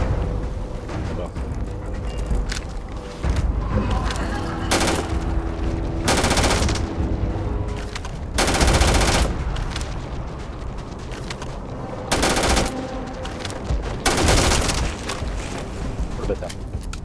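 Gunfire in the Starfield video game: repeated bursts of loud automatic shots and booming blasts spread across a busy mix, with someone talking throughout.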